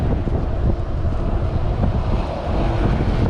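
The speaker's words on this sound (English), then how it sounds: "Got the wind behind us." Steady wind rushing over the microphone while cycling across a bridge in the Lower Florida Keys, a loud, continuous broadband roar with no talking.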